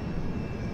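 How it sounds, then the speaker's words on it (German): An airplane passes in the video game Resident Evil 6, a steady broadband engine roar that holds evenly through the short moment with no voices over it. "Oh, ein Flugzeug."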